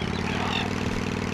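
A vehicle engine's exhaust in Tomb Raider 3 gives a steady, loud mid-range rumble, like a close engine idling without pause through the short moment, with no voices.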